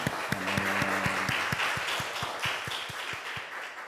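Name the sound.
church congregation applause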